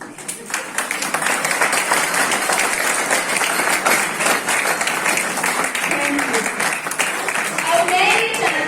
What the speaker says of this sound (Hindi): तो ताली बजनी चाहिए ना।